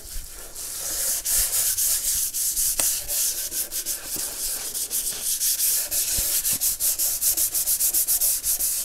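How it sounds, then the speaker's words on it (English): Rhythmic back-and-forth hand sanding of a guitar finish with 400-grit wet-and-dry paper, a steady raspy scrubbing repeated quickly and close, growing more regular toward the end. "I'm going to just very quickly go over this with some 400 wet and dry paper"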